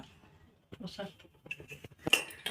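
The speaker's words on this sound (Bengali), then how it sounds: "মা এখন ভাত বাড়তে বসেছে আমাদের জন্য" Dishes clink and rattle sharply as rice is served at home, with a few bright, close hits near the end. A voice talks over the clinks throughout.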